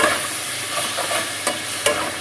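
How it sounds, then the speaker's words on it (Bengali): Crab frying in a pan with soaked coconut powder, a steady close sizzle with occasional sharp stirring scrapes and clicks from a spatula. "একটু জলটা টেনে গেলে কাঁকড় ভাজাটা নামিয়ে দেবো"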